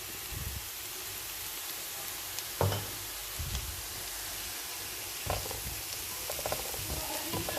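Leeks, onion and mushrooms frying in a pan and being stirred for Lebanese rice, a steady soft sizzle with a few utensil knocks and scrapes against the pan, close by.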